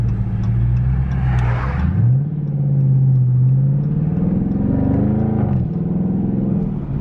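A car engine roars loudly and continuously, its pitch sliding up and down as it is pushed hard, close and dominant throughout.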